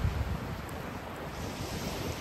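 Waves wash steadily onto a beach at Blåvand on the Danish coast, a continuous broadband surf roar mixed with heavy wind noise on the microphone. No one talks.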